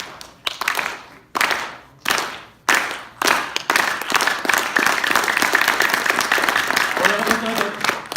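Audience slow clap at a university Muslim student association Quran night: a few loud, widely spaced single claps that speed up and merge into continuous full applause, with some voices underneath.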